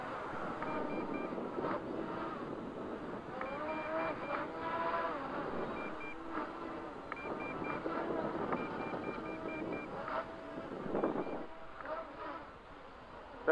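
The motors of an FPV drone flying with a large battery whine as the throttle rises and falls, their harmonic tones sliding up and down over steady wind noise.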